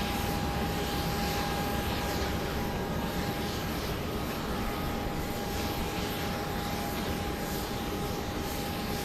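Airplane passing over the north end of the runway at Dallas Love Field at night, a steady loud broadband engine roar that holds evenly throughout with a faint constant tone above it, no voices.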